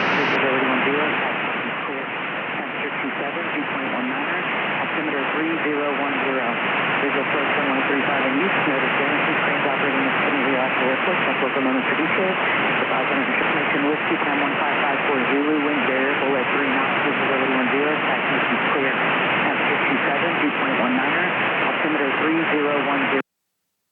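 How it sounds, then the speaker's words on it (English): Inside a small aircraft, the Asheville ATIS broadcast plays through a narrowband radio channel, a continuous recorded voice with a steady hiss and engine drone behind it. "before we talk to them, I want to listen to the ATIS"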